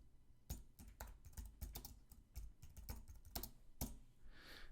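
Rapid, uneven clatter of keys on a computer keyboard as a word is typed, close and clear, pausing briefly near the end with no voices.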